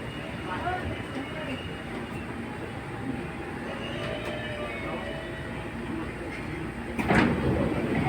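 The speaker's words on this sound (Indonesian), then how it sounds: "hati-hati pintu dibuka." A commuter train at Manggarai station opens its doors amid a constant rumble of train and platform noise, with a louder sliding burst about two-thirds of the way through.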